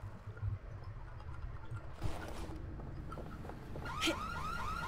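A car alarm in the zombie game Dead Island sets off partway through, repeating warbling, rising tones over a busy game background with no one talking.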